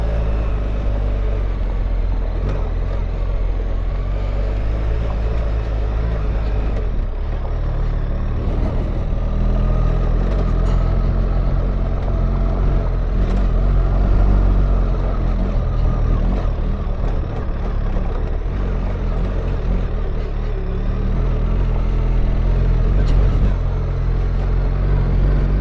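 A BMW R1300GS Adventure motorcycle climbs the steep Corkscrew mountain road near Ouray, Colorado, its steady engine drone and low rumble continuous and fairly loud, mixed with wind and road noise.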